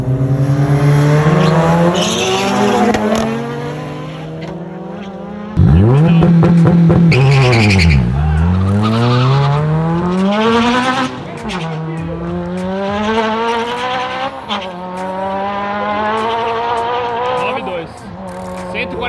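A 600 hp Honda Civic Si turbo roars through rising gear pulls, the engine note climbing and dropping loudly and close, with shifts between revs and voices talking over the drive.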